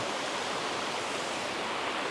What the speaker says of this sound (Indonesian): Dan di bawah saya itu sungai berantasnya ya.